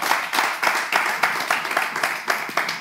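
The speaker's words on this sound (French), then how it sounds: "est-ce qu'on peut applaudir pour Corneille?" A small group claps for a six-year-old child in rhythmic bursts of close, sharp handclaps, repeating several times at a fairly even pace.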